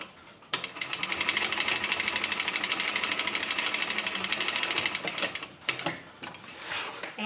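A Techsew 2750 cylinder arm sewing machine stitches a seam on a tote bag, a fast steady mechanical chatter running loud and close for several seconds before stopping, then a few short bursts of stitching.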